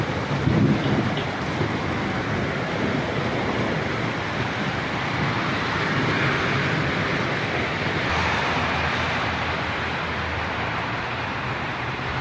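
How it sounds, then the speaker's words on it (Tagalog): Heavy rain pours down in Saudi Arabia, a dense continuous roar of downpour with a brief louder burst at the start, steady and enveloping, no talking. "parang binubuhos ang ulan, napakalakas"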